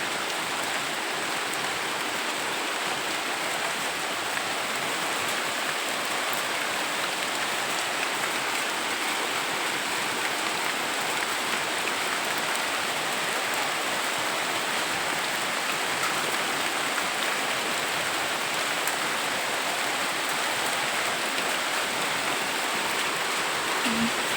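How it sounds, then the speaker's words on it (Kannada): Heavy early-morning rain falls at about seven o'clock, a continuous, even roar of downpour hitting surfaces outside, steady and loud from start to finish with no voices. "ಬೆಳಗ್ಗೆನೇ ಮಳೆ ಬರ್ತಾ ಇರೋದು ಒಂಥರ ಚೆನ್ನಾಗೈತೆ"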